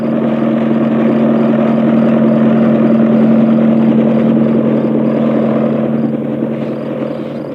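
A helicopter drones steadily and loudly near a patrol, its rotor and engine forming a constant low hum with a strong sustained tone that fades slightly toward the end, with no one speaking.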